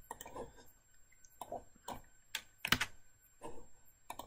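Keys clack on a computer keyboard as code is typed, coming in short irregular bursts of close, crisp taps with brief pauses between them.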